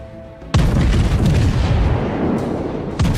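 A ripple salvo from the HMS Hood's heavy naval guns in World of Warships lands as a sudden loud, close boom that rolls on in a long rumble, and a second blast follows near the end.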